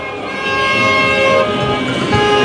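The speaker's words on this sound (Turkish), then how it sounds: "araçlar kornalarla vatandaşların coşkusuna eşlik ediyor" Car horns blare at a street rally for the president in Denizli, Turkey, with sustained overlapping tones sounding loudly and steadily throughout.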